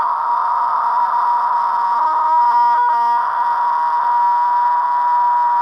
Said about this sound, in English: if you're good at fry screaming, you can go for ages